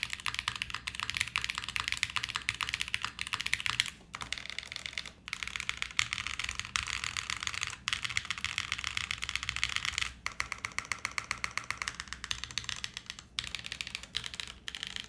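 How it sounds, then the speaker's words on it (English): Someone types steadily on a Quantum60 mechanical keyboard, with dense, close, crisp key clacks running in quick bursts and a few short pauses between runs. "Maybe the weakest part about the sound of the keyboard."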